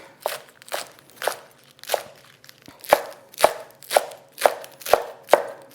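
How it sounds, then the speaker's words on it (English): A knife chops a bunched pile of washed kale on a cutting board, about eleven crisp, evenly spaced strokes close by, growing sharper and more regular in the second half, with no talking. "we're gonna just bunch it together like we do with our herbs, and we're gonna just chop it."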